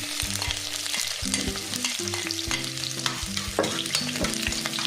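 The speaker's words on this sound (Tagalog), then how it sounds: "ilalagay na agad natin ang ating bawang" Garlic sautéing in a hot pan for pancit sotanghon, a continuous sizzle with steady stirring and scraping, close and moderately loud.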